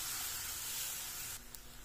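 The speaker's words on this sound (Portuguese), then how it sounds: "E agora, vou deixar fritar esse alho aqui" Garlic fries in a pan with a steady, bright sizzle that holds evenly, then eases slightly toward the end; no talking over it.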